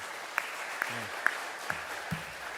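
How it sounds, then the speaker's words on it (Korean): Applause rings out from a church congregation during a Sunday morning service, a steady wash of clapping with a few sharper individual claps standing out, in a reverberant room. "격려와 위로의 박수 함께 뜨겁게 해주시기 바랍니다"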